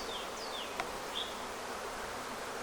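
Honeybees in an open hive under inspection give a low, steady hum, quiet and close, with a few brief higher buzzes of individual bees flying past.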